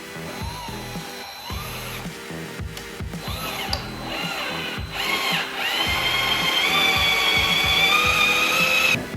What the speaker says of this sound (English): we'll drill that screw into this vertical piece